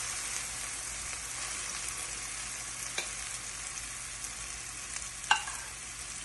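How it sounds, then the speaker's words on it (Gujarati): Coriander paste sautés in a pan with a soft, steady sizzle and a few faint clicks of stirring, heard close and quiet with no voices. "કોથમરીની જે પેસ્ટ બનાવી છે એ આપણે અંદર નાખી અને એને સોતરી"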